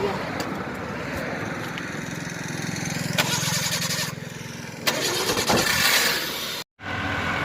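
A motorcycle engine starts and runs with a steady low rumble and occasional revs, close by and loud, while people talk over it in a Gujarati comedy scene; a brief dropout interrupts the sound near the end.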